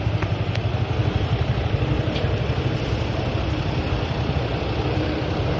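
Steady, continuous rumble of engines from passing traffic, with a low idling drone and occasional faint high clicks, no talking.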